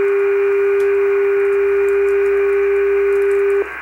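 A steady, loud continuous tone from a longwave NDB radio beacon fills the clip over faint radio hiss, with a small break near the end and no voices.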